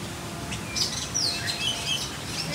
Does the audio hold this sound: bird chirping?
yes